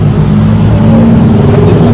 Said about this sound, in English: There's a lot of traffic behind me, so excuse the noise of the traffic.